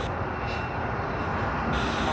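Air New Zealand jet at Sydney Airport, a steady distant engine roar with a broad rushing hiss holding at an even level throughout, no voices over it.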